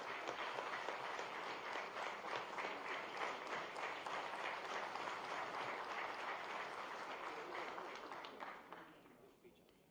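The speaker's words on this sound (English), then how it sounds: "So please give a round of applause." Conference audience at the Institute of Town Planners, India event giving a round of applause, a full, steady wash of clapping from a large hall that holds for several seconds before fading out.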